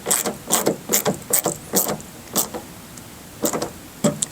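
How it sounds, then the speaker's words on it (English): A hand ratchet snugs down the screws on a fender clamp while mud flaps are fitted to a 2020+ Chevrolet Silverado HD pickup, producing short bursts of close, crisp clicks with brief pauses between strokes. "then we're going to fully tighten our screws down. I'm going to start with these on the fender clamp."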